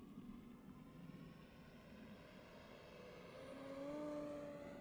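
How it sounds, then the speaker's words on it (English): Large RC model T-28 Trojan plane flying at full throttle into a climb, a steady distant propeller drone that rises in pitch and swells louder toward the end, with no voices. "There's full throttle into a big climb."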